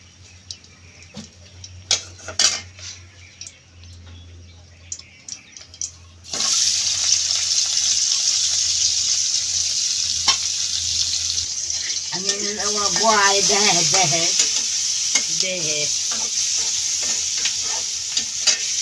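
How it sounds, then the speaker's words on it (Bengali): Bean seeds cooking in a pan over a home stove: after a few quiet knocks, a loud steady sizzle and frying hiss starts and continues with stirring, while a voice speaks briefly over it. "দাদি সিমের বিচি বসাইতেছে এখন"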